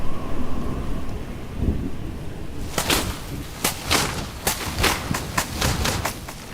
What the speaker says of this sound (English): Afternoon clouds roll in across the forest, setting the stage for a downpour.